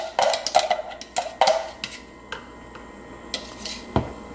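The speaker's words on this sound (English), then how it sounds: "now we're gonna mix it all together until we create the batter" Banana bread batter of oat flour and liquids being stirred in a bowl, with a run of clinking, scraping utensil taps against the dish, busiest early and then sparser, close and fairly quiet.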